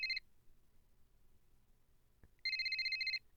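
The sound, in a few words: phone ringing in Bad Summer video game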